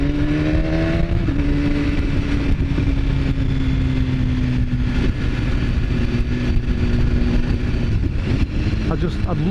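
A 2015 BMW S1000RR motorcycle rides along a bumpy road, its engine droning steadily with shifting pitch and continuous wind rush, loud and close throughout, with a voice talking over it.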